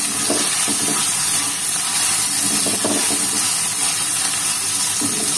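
Grated ginger paste stirred in a little hot oil in a pan, a steady close sizzle with soft repeated scraping strokes of the spoon and no talking.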